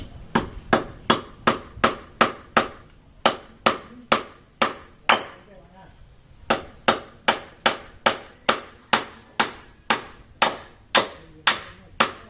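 A hammer striking a nail, sharp evenly spaced blows repeating steadily, close and loud, with a short pause partway through before the strikes resume at the same pace.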